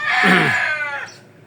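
A single rooster gives one loud, close crow lasting over a second, trailing off into quiet outdoor background.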